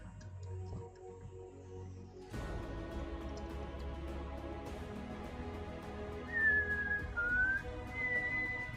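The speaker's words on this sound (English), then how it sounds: "whistling along to pieces I don't know the tune of" A person whistles along to an unfamiliar tune playing in the background, a clear wavering melody that rises and dips near the end over steady music.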